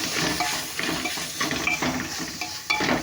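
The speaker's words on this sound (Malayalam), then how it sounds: "നമ്മൾ മസാലയൊക്കെ ചേർത്ത് നല്ലപോലെ അങ്ങോട്ട് ഇളക്കി കൊടുക്കുന്നതാണ്." Masala being stirred in a pressure cooker for chicken biryani, a steady scraping and clinking of a spoon against the metal pot with a soft sizzle underneath, continuous and close.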